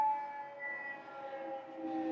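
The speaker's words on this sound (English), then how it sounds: "so they have to put the sirens on to get through." Emergency vehicle sirens sound in the city near a big intersection, a steady wailing tone with layered pitches that holds moderately loud for a couple of seconds.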